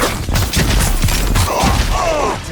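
Video game gunfire erupts in a loud, dense burst of rapid shots and booming impacts, close and chaotic, settling into a rumbling, ringing tail.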